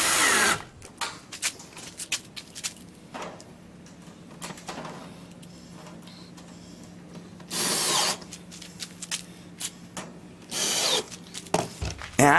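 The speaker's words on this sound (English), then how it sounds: "I screw that down." A power drill drives screws while an outdoor TV antenna reflector is assembled, with loud whirring bursts at close range separated by quieter handling noises and clicks.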